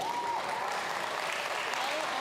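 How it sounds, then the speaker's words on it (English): Applause from the crowd at a county fair livestock show, judging lambs and goats, a steady dense patter of clapping throughout, with a faint whistle-like tone sliding over it at times. "Let's give them a round of applause."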